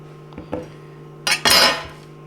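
Knife cutting the end off a warm roasted butternut squash on a board: a few light taps, then a louder scraping crunch as the blade goes through, close and alone.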